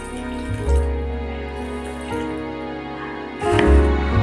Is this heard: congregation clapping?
no